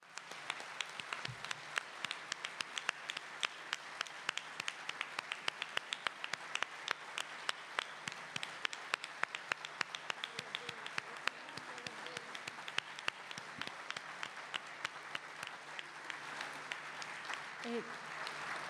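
An audience at a talk on media and dictatorship at a university in Bahía Blanca applauds for a long stretch, with a thick, continuous clapping that stays fairly distant and moderate in level.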